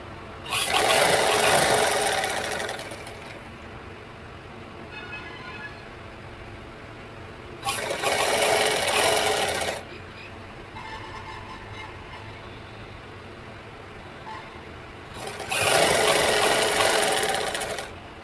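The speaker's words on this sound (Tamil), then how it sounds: "அது மேலேயே ஒரு தையல் போட்டுக்கலாம்" A sewing machine runs stitches along the lining of a blouse in three loud, close bursts, separated by quiet stretches of low background hiss.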